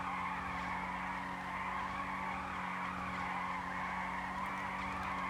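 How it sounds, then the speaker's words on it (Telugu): Car tires skidding and squealing through a turn in Grand Theft Auto V, a continuous sustained screech over a low engine drone, steady and unbroken for several seconds. "నా కారు తిప్పుతుంది, కార్ సౌండ్ వస్తుంది అందుకే."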